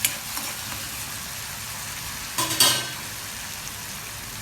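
Masala paste for cluster bean curry frying in a pan, giving a steady close sizzle with a brief louder burst of spatter and stirring partway through.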